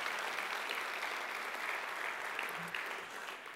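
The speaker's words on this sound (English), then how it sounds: "Let's give them a round of applause." A crowd at a State of the City address gives steady, moderately loud applause for recognized district officials, with continuous clapping and no talk over it.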